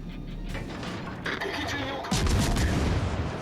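Naval gunfire from a warship, the cruiser Agano, in the World of Warships Legends video game: a low rumbling background that swells into a loud broadband boom of a salvo about two-thirds through, continuing as heavy sustained roar.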